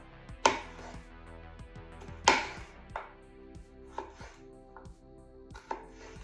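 A knife cuts vegetables into slices on a board during weekly meal prep: a handful of separate sharp chops, two louder strikes followed by softer, irregularly spaced cuts, close and with no talking.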